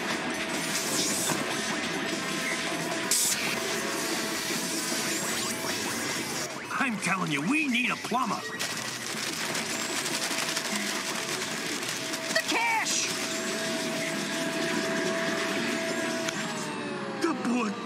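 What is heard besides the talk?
vacuum cleaner turned on in a cartoon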